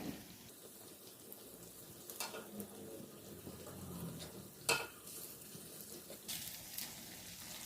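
Banana unniyappam fry in hot oil in a pan, a faint, steady sizzle with occasional light clinks of a utensil turning them and one sharper knock.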